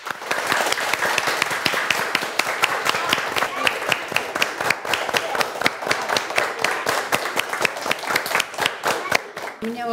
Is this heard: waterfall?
no